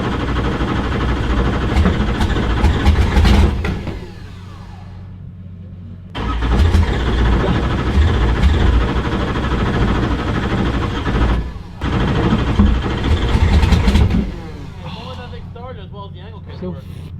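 A drift car engine idles and revs in loud bursts between quieter stretches, with people talking over it at an event.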